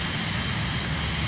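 The Vision Jet G2 in Microsoft Flight Simulator 2024 gives off a continuous broadband jet engine roar, steady and fairly loud, with no voices over it.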